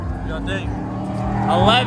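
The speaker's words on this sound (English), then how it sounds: "you hear that Pro Charger though?" A truck engine fitted with a ProCharger supercharger at a truck show, rumbling close by with a rising whine toward the end, under loud overlapping talk.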